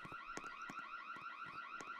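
A looping alarm blares inside a Roblox game, its repeating electronic wail pulsing in steady cycles about every half second, loud and continuous with no one talking.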